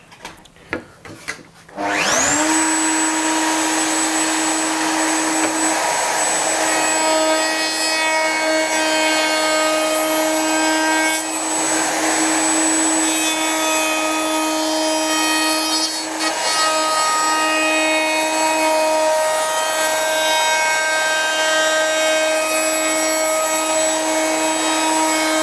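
A bearing-guided router cutter on a Triton Workcentre WCA201 slices through wood, a loud, steady high-pitched whine that spins up after a brief clatter and holds without a break, with no talking.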